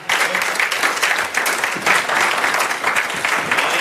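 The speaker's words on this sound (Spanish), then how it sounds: "Dale un aplauso al Señor" A church congregation bursts into sustained applause, dense clapping of a crowd filling the room continuously from start to finish.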